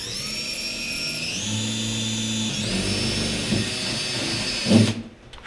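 A power drill grinds steadily through the sheet-metal hood of a Crown Vic, cutting an opening for a Hilborn ram air scoop; its whine shifts pitch twice, then ends in a loud clunk and stops.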